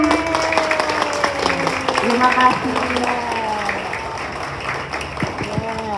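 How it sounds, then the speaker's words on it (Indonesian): Primary schoolchildren at an Indonesian elementary school's National Children's Day event clap together in a lively scattered patter, with an adult voice speaking over the clapping and children's voices mixed in. "mana tepuk tangannya?"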